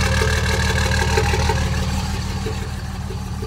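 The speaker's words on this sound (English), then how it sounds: "You can also hear a little bit of a tick or miss even when it's warmed up and idling" A cold truck engine idles roughly and loudly up close, with a steady low rumble broken by a rhythmic tick or miss that repeats throughout, and no voices.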